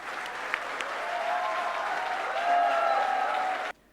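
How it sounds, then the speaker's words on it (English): Steady audience applause from a large crowd at the IIMBUE 2015 event, sustained clapping for nearly four seconds that swells slightly before cutting off abruptly. "please join me in giving Shah Rukh a resounding round of applause."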